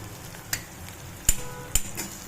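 Sliced onions frying in hot oil in a pan, a steady low sizzle broken by two or three sharp clicks of a spoon against the pan, close up with no voices.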